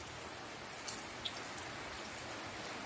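Fine, light rain falling outdoors, a faint steady hiss with a few soft drips, with no voices.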